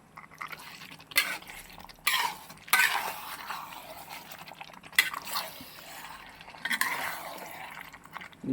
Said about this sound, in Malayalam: നന്നായിട്ട് ഇളക്കി കൊടുത്തേ.